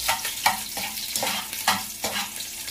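Garlic sizzles and crackles in hot oil while being stirred, with repeated scraping strokes at a steady rhythm, close and moderately loud, for papaitan.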